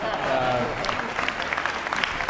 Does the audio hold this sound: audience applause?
yes